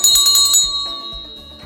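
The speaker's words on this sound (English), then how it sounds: "hit that notification bell right over here" Bright notification bell chime rings out in a quick run of repeated strikes, then fades with a lingering tone, loud and alone with no voices.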